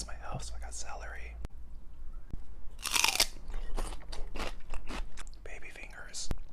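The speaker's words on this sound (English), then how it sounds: "Trying to balance my health, so I got celery." Close crunchy bites and chewing of raw celery sticks, a burst of loud crisp crunches followed by repeated wet chewing, with soft whispery mouth noises around it.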